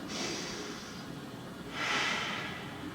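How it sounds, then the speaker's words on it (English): Two slow, deep breaths during seated chair yoga, each a soft airy inhale or exhale close to the microphone, the second fuller and louder, with no talking. "So big deep breaths"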